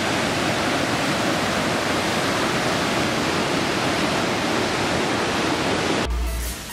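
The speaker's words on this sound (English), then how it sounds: "We are almost at the base of the waterfall." Jonha Falls near Ranchi roars continuously from close range, a loud, dense, unbroken rush of falling water that cuts off abruptly at the end.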